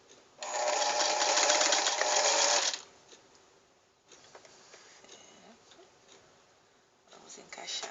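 Sewing machine stitching a bias strip onto fabric for a rag doll, a loud steady whirring run of about two seconds, then quieter handling noises and a shorter burst at the end.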